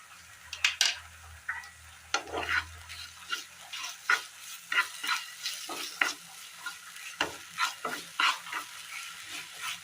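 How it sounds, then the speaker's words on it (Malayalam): Tomatoes and sugar sauté in a pan for a tomato egg curry, with a spoon repeatedly scraping and stirring in an irregular rhythm over a soft, steady sizzle, close and clear with no talking. "തക്കാളി വഴന്നതിന് ശേഷം ഇതിലേക്ക് ഒരല്പം പഞ്ചസാര ഇട്ട് കൊടുക്കാം."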